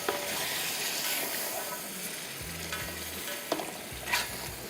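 Potatoes roast and get stirred in a pan over a high flame while cooking for Bombay biryani, with steady close sizzling and frying hiss broken by occasional scraping stirs and a low hum underneath.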